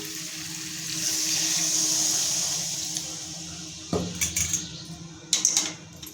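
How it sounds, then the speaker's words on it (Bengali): Hot water is poured into a cooking pan of fried spices for a vegetarian potato and pointed gourd curry, a steady pouring hiss followed by several sharp metallic clinks of utensils against the pan, close up with no talk. "এবার আমি দিয়ে দেবো গরম জল"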